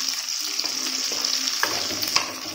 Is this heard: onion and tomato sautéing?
yes